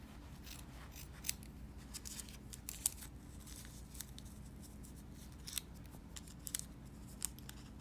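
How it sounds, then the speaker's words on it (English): Scissors cut through felt close up during goldwork embroidery, with soft crisp snips and crunches at an uneven pace over a low steady background hum. "we're going to cut a second one smaller out of the same felt."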